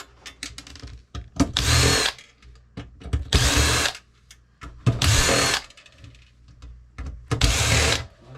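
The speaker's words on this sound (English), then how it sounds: "let's start off by pulling the screws out the back" A power drill whirs in four bursts, each lasting under a second, as it backs screws out of the rear panel of a Sony DVD player being taken apart for scrap. Brief clicks and handling noises fall between the bursts.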